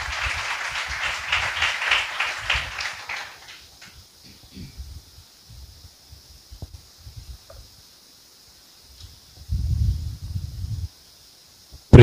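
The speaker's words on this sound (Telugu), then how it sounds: "క్లాప్స్ కొడుతూ వారికి వర్తమానం." A church congregation breaks into applause, a dense wash of many hands clapping for about three seconds before it fades out. Scattered low thumps and a brief murmur follow, and a voice is heard faintly near the end.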